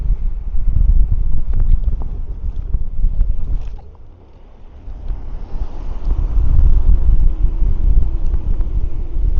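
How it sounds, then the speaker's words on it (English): Strong wind roars and buffets close against the microphone beside a choppy lake, a loud, rumbling rush that eases briefly in the middle before surging back, with no talking. "Wind blowing in my face."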